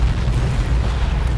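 A dense, continuous roar of loud video game explosions in Garry's Mod with booming low rumble and no pauses, like a barrage of blasts.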